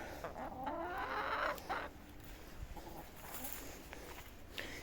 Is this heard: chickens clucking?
yes